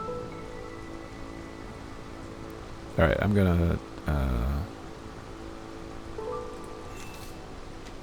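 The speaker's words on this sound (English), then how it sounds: "The rain's really picking up." Steady rain falls in the video game Against the Storm, a constant soft wash that continues beneath a man's brief bursts of speech.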